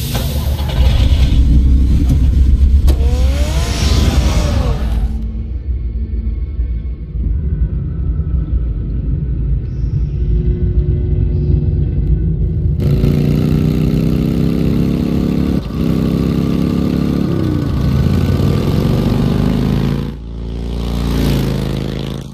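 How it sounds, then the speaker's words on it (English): Batman's car in the Telltale Batman game, a deep engine rumble that accelerates, drops to a quieter idle, then surges and revs loudly again, close and heavy, with no talking. "Get the car ready, Alfred."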